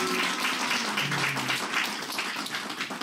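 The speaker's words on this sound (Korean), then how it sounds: "초등부 환영의 박수" A church congregation gives a short round of welcoming applause for elementary school children at a Christmas service, a soft, diffuse patter of clapping with a faint voice underneath.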